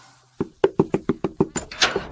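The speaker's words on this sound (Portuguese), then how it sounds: "Eustácio, faça a gentileza de ver quem é." Someone knocks on a door in an animated cartoon: a quick series of about nine sharp, evenly spaced knocks, close and loud, with no talking over them.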